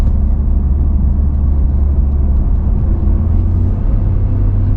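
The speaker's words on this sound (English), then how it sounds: "I just touched the brake and it went to 3rd gear." Loud, deep engine rumble from a 2025 Ford F-150 Tremor pickup towing on a descent, steady and heavy, with a slight shift in tone partway through as it downshifts to third gear on braking.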